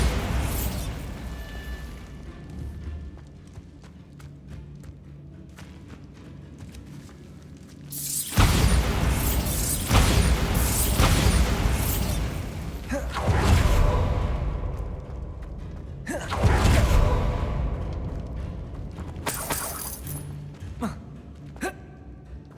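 Bombarda blasting spell cast in Hogwarts Legacy: several loud bursts and booming impacts with whooshing swells, spread across a stretch of quieter game ambience.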